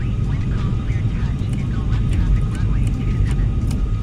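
A simulated F-14 Tomcat jet does a touch and go in a flight simulator, a loud steady low engine roar and rumble running throughout under a talking voice.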